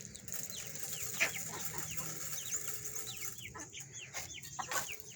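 Chickens from a backyard flock of about 25 birds cluck in a steady, busy chorus, with repeated short calls overlapping at close to middle distance and no voices.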